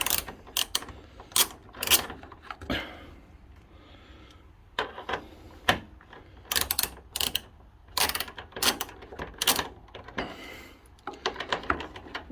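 Ratchet working a Torx 40 bolt loose on a VW Crafter, bursts of close, crisp clicking pawl sounds in irregular runs separated by short pauses.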